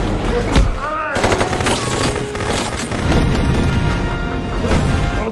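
Gunfire from an MK21 rifle in an action film, with loud rapid shots and booms over a dense mix of battle sound that keeps going throughout.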